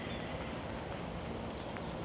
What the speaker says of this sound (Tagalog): ang hassle talaga ng ulan